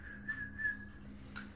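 A person whistles a short, steady tune with a few sustained notes, close and clear over a low constant hum, with no talking.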